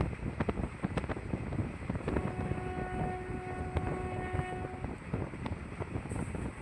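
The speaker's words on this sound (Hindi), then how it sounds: "अब ट्रेन की स्पीड बढ़ाई जा रही है।" A passenger train on the Bhuj–Rajkot line picks up speed, with a steady rumbling roar of wheels and carriages, rhythmic clatter, and a long sustained horn tone; wind buffets the microphone throughout.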